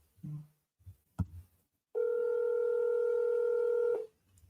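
A phone dialing out to return a cold call in a commercial real estate setting, with a few faint taps and then a loud steady tone lasting about two seconds before it cuts off.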